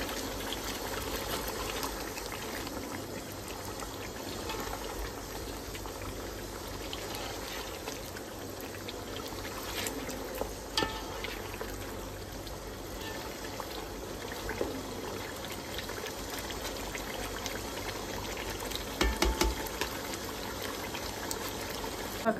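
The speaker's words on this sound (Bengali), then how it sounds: "এবার চিকেনটাকে কষতে আমি দিয়ে দিয়েছি" Chicken being sautéed in a pan for biryani gives a steady, continuous sizzle throughout, with faint occasional clicks and scrapes of stirring and no talking.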